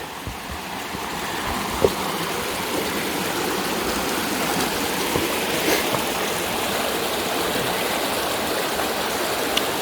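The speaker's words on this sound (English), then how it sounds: "So basically you follow this creek. This is Morrison's Creek." Morrison's Creek in Allegheny National Forest rushes steadily over its bed, a dense, continuous close-up wash of flowing water with no pauses and no voices.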